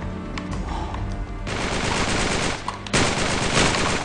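Rapid bursts of automatic gunfire from the Uncharted 3 video game, with dense, loud, sustained volleys and a sharp spike near the end, heard alone without talk.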